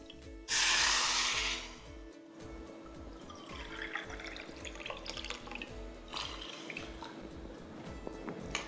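A brief loud rush of two cups of water pours into a pot over jaggery, then fades into quieter trickling and light drips with a few soft clinks.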